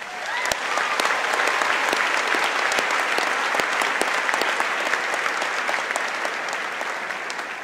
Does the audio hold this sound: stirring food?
no